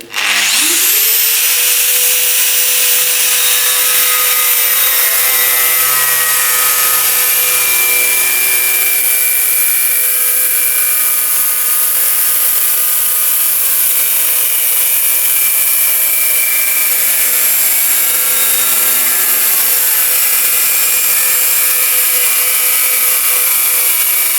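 A 125 mm Distar Esthete 2 diamond disc on an angle grinder cuts porcelain stoneware tile, making a loud, close, continuous high whine with a steady grinding rasp that holds for the full length with no talk over it.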